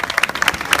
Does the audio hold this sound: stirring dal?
no